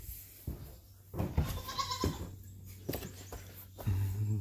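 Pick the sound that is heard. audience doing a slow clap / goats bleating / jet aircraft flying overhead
goats bleating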